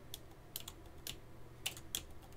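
Keys on a computer keyboard are tapped in a quiet, sparse run of separate clicks, up close and faint, with no talking.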